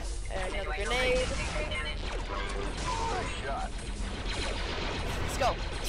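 Blaster and gunfire bursts in the Star Wars Republic Commando video game, rapid mechanical shots over a dense, busy battle mix with voices and effects throughout.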